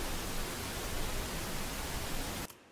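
Steady pink noise test signal used for audio mixing hisses loudly and evenly for over two seconds, then cuts off abruptly into near silence.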